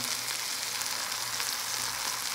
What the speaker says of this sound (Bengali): ভালো করে মাছগুলো লাল করে ভেজে নিতে হবে